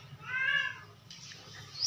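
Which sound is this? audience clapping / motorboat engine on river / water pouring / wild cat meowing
wild cat meowing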